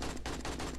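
Gunfire rattles in the survival game 7 Days to Die, played with the Darkness Falls mod. Several rapid, loud shots crack in a quick automatic burst.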